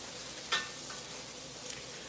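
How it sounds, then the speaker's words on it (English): Onions and carrots sizzle softly in a cast iron Dutch oven, a faint steady frying hiss broken by a sharp scrape of stirring near the start and a lighter one later. "I am taking the incredibly exciting step of stirring around some onions and carrots in a cast iron Dutch oven"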